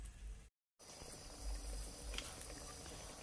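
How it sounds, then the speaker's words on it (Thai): Pork bones boiling in water in a pot, a steady low bubbling and rolling simmer that runs nearly throughout, broken once by a short moment of silence. "แล้วก็รอให้หมูเดือดอีกหนึ่งหนก่อนจ้ะ"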